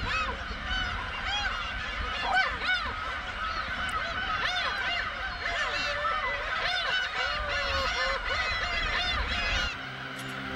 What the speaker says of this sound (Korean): 새끼들이 어미의 울음소리를 따라 절벽을 오른다